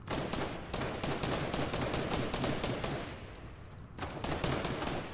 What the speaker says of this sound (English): I hear one guy sniping.